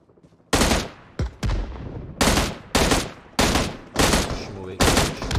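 Loud bursts of automatic gunfire in PUBG Mobile, about seven separate volleys of rapid shots with short gaps between them, sounding close and harsh.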